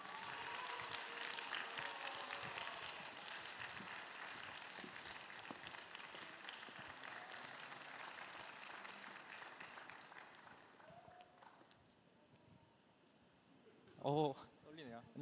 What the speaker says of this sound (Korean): 우리 나오실 때 우리 축하의 박수로 맞이해 주시기 바랍니다